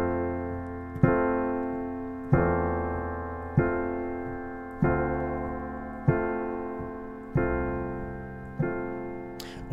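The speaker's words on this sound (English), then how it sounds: "both songs use a descending bass line on the 4 chord" Piano chords struck one after another at an even, unhurried pace, each ringing and fading, with low bass notes stepping downward beneath them in a descending bass line on the 4 chord.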